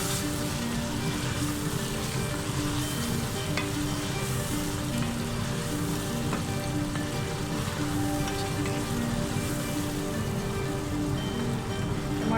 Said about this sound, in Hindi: अब इसमें टमाटर शामिल करेंगे।